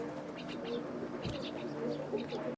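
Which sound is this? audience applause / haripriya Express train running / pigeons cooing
pigeons cooing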